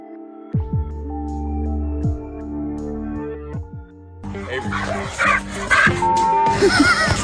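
A dog barks and yips loudly in a short series of sharp calls, followed by chaotic, noisy commotion with overlapping yelps and clatter toward the end.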